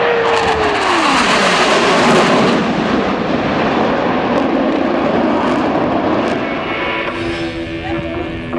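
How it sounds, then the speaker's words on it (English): Blue Angels Navy jets roar past at an airshow, a loud sustained rumble with a falling engine whine near the start, steady and close, then easing slightly as the formation moves on. "From the right, the Blue Angels"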